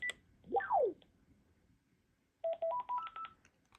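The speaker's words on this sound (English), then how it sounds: "So here's what the achievement tone sounds like." A Panasonic call blocker plays its achievement tone: a quick sweeping chirp, a pause, then a rising sequence of short electronic beeps, clean and moderately quiet.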